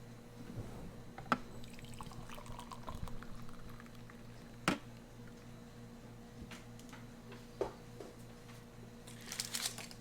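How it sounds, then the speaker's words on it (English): Hot water is poured into a mug of freeze-dried coffee from a Russian military ration, a faint, quiet trickle with a few soft clicks and knocks. "Got our hot water right here, nice freeze dried."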